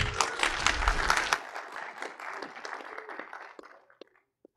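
Conference audience applauding to welcome a speaker at a security event, a full burst of clapping that starts strong and gradually thins to a few last claps before fading out.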